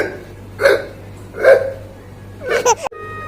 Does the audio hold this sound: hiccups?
yes